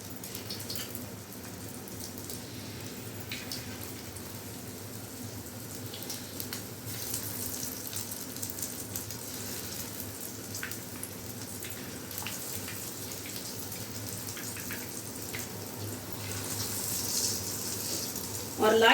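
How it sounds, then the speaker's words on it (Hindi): Marinated chicken frying in oil over medium heat gives a steady, soft hiss and sizzle that continues throughout and swells slightly toward the end. "तो अब हम इसको फ्राई करते हैं"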